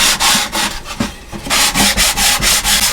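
A 4-inch sander with 100 grit paper works a wooden cigar box guitar top in quick, rhythmic back-and-forth strokes, close and loud, each pass a bright rasping rub.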